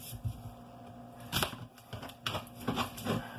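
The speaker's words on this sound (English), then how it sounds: "I'm gonna go ahead and cut up this onion" A knife chops through an onion on a cutting board in a home kitchen, giving a few sharp, close taps spaced irregularly, about five in all, with no talking.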